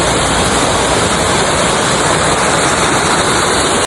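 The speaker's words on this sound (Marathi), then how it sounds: "मग तुम्ही पण आता धबधबाचा आवाज ऐका की कसा नॅचरल आवाज येतो." Small waterfall rushing steadily, a loud continuous broadband roar of falling water close to the microphone, unbroken until it cuts off at the very end.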